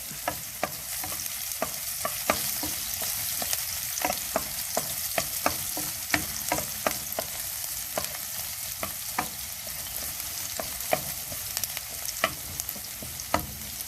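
Garlic and onion, the white part of green onion, frying in a pan for sautéed bitter melon, giving a bright continuous sizzle broken by frequent light clicks of a spatula stirring, with no voices.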